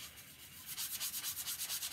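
Rapid back-and-forth scratchy rubbing of sandpaper lightly on a painted chalkboard sign, a steady rhythmic rasp, fairly faint, with no talking.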